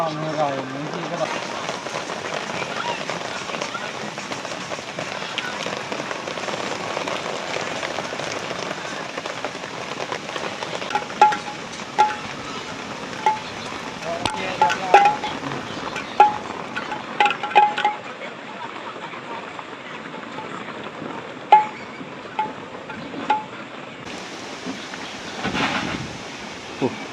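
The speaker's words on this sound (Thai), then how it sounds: "บ่เซาง่ายดอกฝน ลมยังพัดมาแต่ทางทิศตะวันตก" Heavy rain pours steadily in a storm with strong wind blowing from the west near a dam, a dense continuous hiss with occasional sharper gusts and knocks, while a person talks intermittently.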